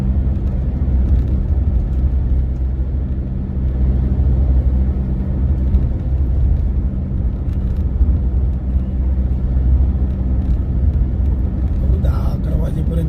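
A car cruising on a long highway road trip, a loud steady engine and road rumble filling the cabin throughout with no break.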